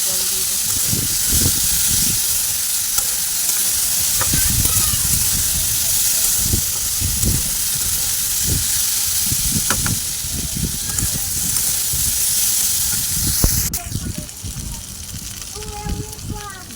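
Food fries and is stirred in a pan in a home kitchen, giving a loud, steady, close hiss that runs throughout, with a voice talking beneath the sizzle.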